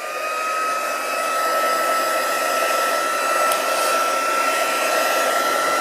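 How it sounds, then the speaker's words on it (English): An embossing heat tool for rubber-stamp crafting runs on setting 2, giving a steady, loud blowing whoosh with a faint high whine that holds level throughout, alone without any talking. "heat up your heat tool. So this is on number 2 setting."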